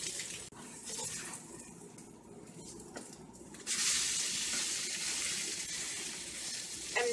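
French toast made with egg-soaked bread fries in a pan, giving a steady broadband sizzle that swells louder partway through and holds there, with no one talking.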